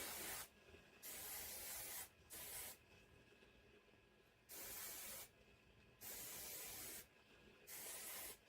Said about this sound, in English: Awesome spray.